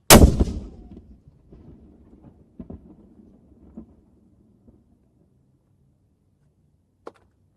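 A ceremonial gun salute at the King Charles III proclamation ceremony: one loud boom opens the span and its rumble decays over several seconds, with scattered low thuds, then a single sharp distant crack near the end.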